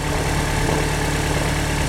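Right after a cold start at home, a car engine settles into a constant low idle, heard close up as a steady drone with a faint mechanical buzz and nothing else.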